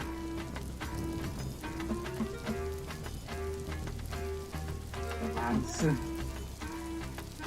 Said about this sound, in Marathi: पाऊस पडला